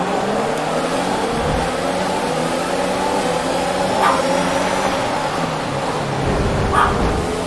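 Formula 1 cars from the F1 2021 video game roar together at the Singapore race start as a steady, dense engine drone with slight pitch shifts.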